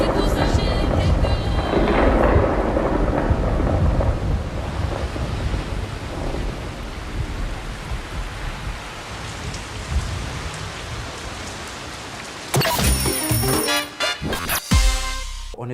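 Heavy rain pours steadily over Conakry in a loud, dense wash, with low rumbles of thunder rolling beneath it before the downpour gives way to other sounds near the end.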